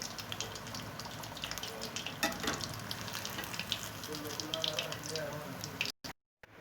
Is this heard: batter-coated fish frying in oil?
yes